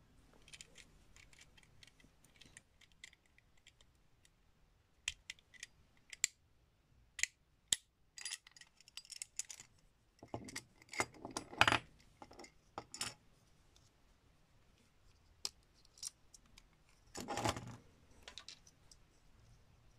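Small plastic and metal parts of a Guilty Longinus Beyblade spinning top click and clatter faintly as it is taken apart, scattered close clicks and taps with a few louder bursts and quiet gaps between.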